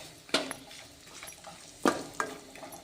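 Onions fry in oil until golden in a pan, with a soft background sizzle broken by a few sharp clanks and scrapes of a spoon stirring against the pot.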